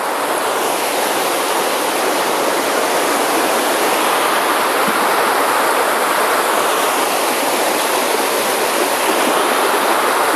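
A stream rushes steadily beneath lakeside buildings on its way down to a lake in Germany or Austria, a loud, continuous broadband wash of water with no break and no voices.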